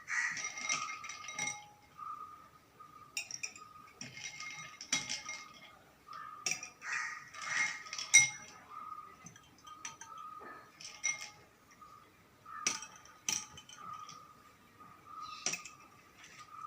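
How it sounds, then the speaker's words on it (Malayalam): Ice cubes dropped into a glass of hibiscus flower juice give repeated sharp glassy clinks in scattered bursts, quiet and close, with no talking. "നമുക്ക് കുറച്ച് ഐസ് ക്യൂബ്സ് ഇട്ട് കൊടുക്കാം"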